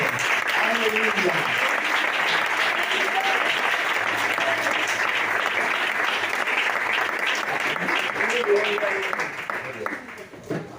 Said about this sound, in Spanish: Aplaudan al Rey, por favor.